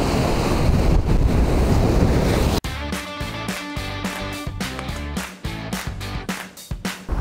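Ocean surf at Forest Caves Beach on Phillip Island, Australia, heard as a loud, close wash of breaking waves and wind rush for a few seconds before music takes over.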